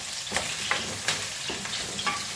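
Onion sautéing in a pan for chicken feet adobo, a steady close sizzle with soft scraping stirs every few moments, no talking.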